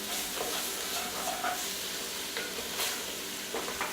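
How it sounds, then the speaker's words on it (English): A wooden spoon stirs and scrapes pumpkin chili in a pot, giving a steady, close sizzle with occasional soft scraping clicks and no talk. "this is when a wooden spoon really comes in handy. You can kind of scrape all the stuff off the bottom"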